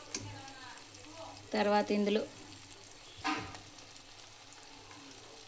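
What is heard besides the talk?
sliced onions frying in a pan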